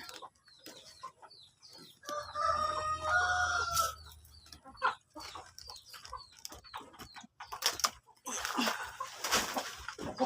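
Breeder hens that have just laid eggs on a farm cluck and call nearby, with a rooster crowing, and bursts of rustling and clatter in between.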